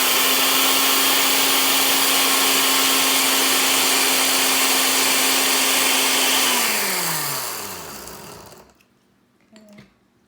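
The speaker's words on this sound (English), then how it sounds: "you want your blender to still blend as expected" A blender whirs loudly and steadily as it purées cauliflower with a little water, then winds down in pitch and cuts off near the end, leaving a brief faint clatter.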